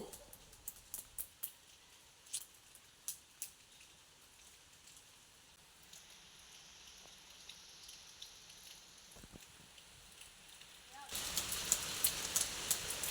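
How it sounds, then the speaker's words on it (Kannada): Light rain patters steadily with scattered louder drips, then grows into a heavier, denser downpour near the end. "ಮಳೆ ಬಿಡ್ತಾ ಇರಲಿಲ್ಲ ಹಾಗೆ ಕೊಡೆ ಇಟ್ಕೊಂಡೆ ಜಾಜಿಯನ್ನು ಕೊಯ್ತಾ ಇದ್ದೇನೆ"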